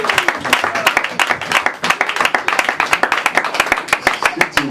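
A church congregation applauding during a couple's blessing service, dense rapid clapping from many hands with a steady rhythmic pulse, close and lively, with a voice faintly underneath.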